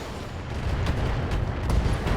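A gunshot and explosion in a first-person shooter video game land as a dull, rumbling burst of booms, fairly loud and spread over a couple of seconds with no clear single crack.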